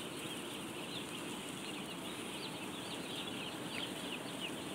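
Day-old broiler chicks fill a closed poultry house with a dense, continuous chorus of high cheeping, steady and moderately faint with no talking.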